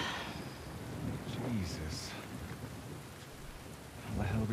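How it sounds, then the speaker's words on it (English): A thunderstorm in The Last of Us Part II video game: steady heavy rain hiss with low rumbling thunder swelling and fading, and a short spoken exclamation over the storm. "And there's a storm."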